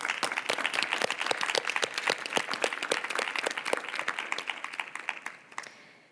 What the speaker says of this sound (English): Maybe a quick round of applause for all of our speakers